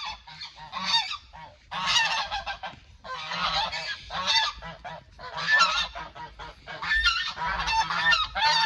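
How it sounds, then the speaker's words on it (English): Geese being let out of a coop honk loudly and continuously in overlapping, harsh bursts close by, with no voices over them. "time to get my geese out of the coop"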